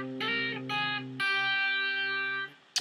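Electric guitar riff played through effects for a lesson, sustained harmonic-rich notes in three phrases, the last held long before a short pick scrape, alone with no talking.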